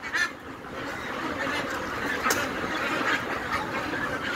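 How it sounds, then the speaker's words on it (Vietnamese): Tens of thousands of ducks on a farm in Hau Loc, Thanh Hoa, Vietnam, a dense continuous chorus of quacking and honking from a large flock, moderately loud and steady, with no speech. "Hàng vạn vịt."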